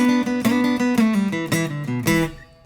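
An electric guitar plays a Texas blues lick, a clear run of distinct picked notes and bends that ends on a ringing note fading out.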